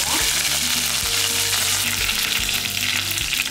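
Chana dal, pepper and curry leaves fry loudly in hot oil, a dense continuous sizzle with crackling pops and a few spoon knocks against the pan.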